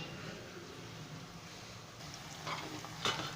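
Okra (lady finger) frying in a pan, a steady soft sizzle with a couple of louder stirring scrapes and clinks near the end, no voices.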